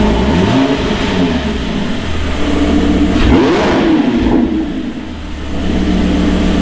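A Ferrari F430's exhaust revs loudly and close, the engine note climbing and falling through a couple of throttle blips before settling to a rumbling idle.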